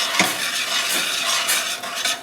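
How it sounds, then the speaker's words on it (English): Scraping fond off the bottom of a pan while deglazing with sherry makes a close, rough scraping and stirring sound, with repeated strokes over a soft sizzle. "Now we get all this fond off the bottom here."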